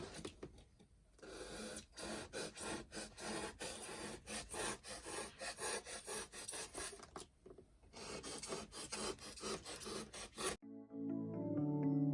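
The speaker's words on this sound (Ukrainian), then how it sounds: "потім все це буду зачищати вже наждачкою" Wooden cloud-shaped photo-zone decorations are sanded with sandpaper in steady, close, rasping strokes that run almost without a break for about ten seconds, then stop.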